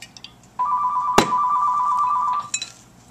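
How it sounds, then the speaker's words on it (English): A telephone rings in a home kitchen, one steady electronic tone lasting about two seconds with a sharp knock partway through, then stops. No one talks. "there goes the phone"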